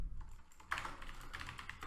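Code is typed on a computer keyboard as a short run of close, quick key clicks with a few louder strokes, no voice over them.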